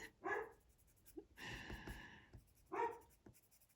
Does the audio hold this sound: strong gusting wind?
no